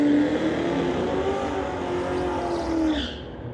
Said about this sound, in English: Great drag race there